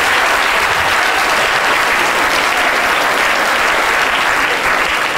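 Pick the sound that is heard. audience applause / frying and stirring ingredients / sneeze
audience applause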